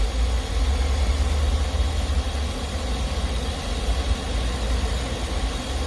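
A GM car engine, repaired after an ECM replacement and crankshaft position sensor relearn, runs at a steady idle: a continuous loud low rumble with no pauses and no voices.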